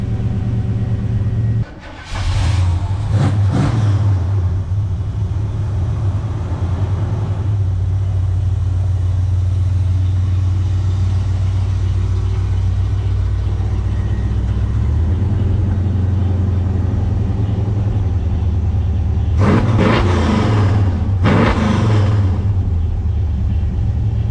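A 1987 Chevrolet Suburban V8 fitted with ACES Killshot EFI throttle body fuel injection, idling with a loud, deep steady rumble close by and a few sharp revs of the throttle near the start and end.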